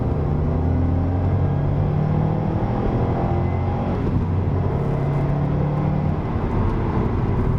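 A Subaru WRX STI turbo car pulls hard in third gear from around 3,500 RPM, a loud, steady engine drone and road rumble heard from inside the cabin, continuous throughout.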